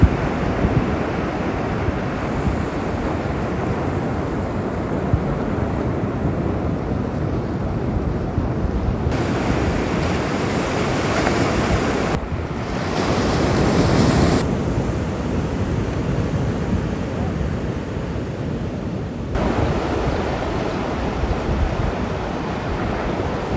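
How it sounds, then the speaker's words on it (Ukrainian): Ocean surf rolls onto a Bali beach where people are surfing, a continuous loud wash of breaking waves mixed with heavy wind buffeting the microphone. "Ні, ну хвилі такі нормальні"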